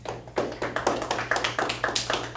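A small group claps for a Sony A7 III camera body at a photography lesson, a brisk, fairly close round of individual hand claps in an uneven rhythm.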